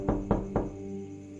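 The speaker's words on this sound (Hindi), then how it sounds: "थोड़ी देर हुई थी कि दरवाजे पर दस्तक हुई।" Three knocks on a door, evenly spaced and fairly close, ringing briefly over a low background hum at night.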